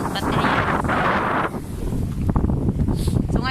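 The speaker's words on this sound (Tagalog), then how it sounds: "mahirap mag-video ngayon kasi malakas talaga ang hangin" Strong wind buffets a microphone at sea near a boat, a dense continuous rumble and roar that stays loud throughout, with a brief dip midway.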